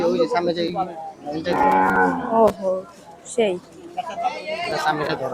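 Cattle low in drawn-out, deep moos at a busy cattle market in Rahmatganj, Dhaka, with several calls rising over a steady hubbub of people talking nearby.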